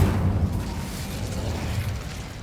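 An Incendio fire spell blast in Hogwarts Legacy: a dense, low, rumbling whoosh of flame that holds steady at full strength for the whole stretch, with no voices.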